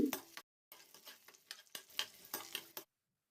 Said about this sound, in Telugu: ఒక రెమ్మ కరివేపాకు కూడా వేసుకొని వేయించుకోవాలి